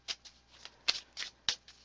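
Tarot cards shuffled by hand in a quiet room, a run of soft, quick riffling bursts in an irregular rhythm, close and faint with no talking.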